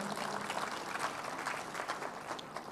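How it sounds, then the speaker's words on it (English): A church congregation applauds in praise, steady mid-level clapping sustained throughout with no voices over it. "if you want to clap, let's put our hands together for the Lord."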